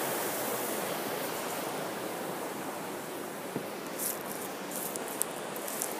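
Steady broadband rushing of a waterfall in heavy rain, a constant wash of water with faint patters and small knocks on top, no voices.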